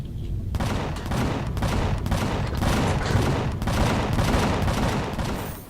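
Automated base turrets in the space survival game Empyrion fire rapid, loud bursts at attacking enemies, a steady run of sharp shots repeating over several seconds with little else around.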